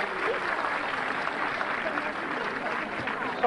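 Applause from a small audience at a religious gathering in Crespi d'Adda, a steady dense patter of many hands clapping, moderately loud and continuous throughout.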